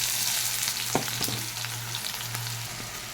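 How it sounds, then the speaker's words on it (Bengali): Chopped onion hits hot oil in a wok with fried garlic and dried chillies, giving a steady close sizzle with a few sharp stirring clicks and a low hum underneath, and no voices. "রসুনটা খুব ভালো করে ভাজা হয়ে গেছে, দিয়ে দিচ্ছি কেটে রাখা পেঁয়াজ।"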